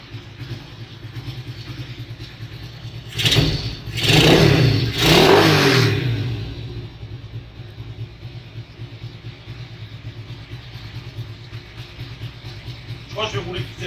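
Dax semi-automatic motorbike engine idling with a low steady rumble, then revving up in a few strong swells before settling back to idle, close by.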